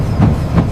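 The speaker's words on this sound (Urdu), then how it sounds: "جیسے ہی 11:57 ہوئے ریل گاڑی اسٹیشن سے نکل پڑی" Train pulling out of a station, a short loud burst of low rumbling with two rhythmic clacking pulses of wheels over rail joints.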